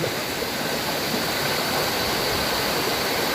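Sprite Falls waterfall in Majayjay, Laguna, a steady, loud roar of falling water that stays broadband and constant without a break, close up and alone, with no voices.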